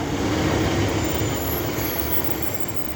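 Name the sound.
train 151.44 departing station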